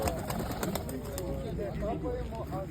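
Pigeons coo at a pigeon and animal fair in the village of Bilohorodka. Soft, low calls are heard amid steady crowd chatter and outdoor bustle, with nearby voices talking throughout.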